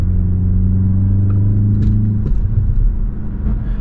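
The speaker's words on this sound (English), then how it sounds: "you definitely can hear that it's the M version of the car. It's a 4-cylinder engine, turbocharged." BMW X1 M35 turbocharged four-cylinder engine heard from inside while driving, a loud, low, steady rumble with a slight lift in revs and no voices.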